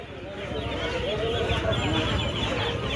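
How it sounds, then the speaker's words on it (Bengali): Many Sonali chicken chicks at a bustling poultry market give off a dense chorus of high peeping and cheeping, heard close and continuous against the crowd's murmur. "এখানে সোনালি মুরগির বাচ্চা রয়েছে প্রচুর"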